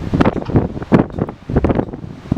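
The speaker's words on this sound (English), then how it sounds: "it's super windy here, guys" Strong wind gusts outdoors buffet the microphone in loud, uneven rumbling bursts that rise and fall across the whole clip, with no other sounds standing out.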